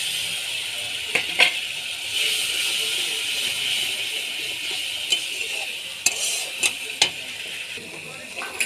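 Spiced masala with chili powder sizzles in oil for a black-cumin rui fish curry, a constant high hiss punctuated by sharp, irregular spatula scrapes and taps against the pan.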